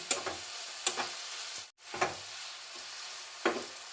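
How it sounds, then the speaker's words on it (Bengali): Tomato being stirred with salt and turmeric in a pan, a utensil scraping in a few separate strokes over a soft sizzle, close and moderately loud, with a brief silent break midway. "নুন হলুদ দেওয়ার পর এটা ভালো করে মিশিয়ে নিচ্ছি"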